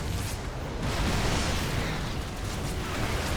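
A StarCraft 2 Yamato cannon shot snipes a Viper in a Zerg-versus-Terran match, landing as a loud, sustained explosive burst that fills the whole clip, with no voices.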